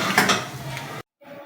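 Aloo palak being dished out of a pan, with metal utensils scraping and clinking against cookware for about a second, close up, followed by a brief silence and faint kitchen noise.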